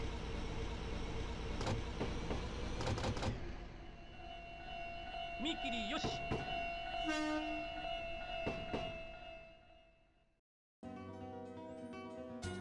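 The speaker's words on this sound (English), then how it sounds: "use the horn on every crossing you pass, like this one." A train horn in the video game Densha de Go! Ryojōhen sounds at a level crossing in short blasts and a sustained tone over rumbling rail noise, then briefly drops to silence before another rail scene.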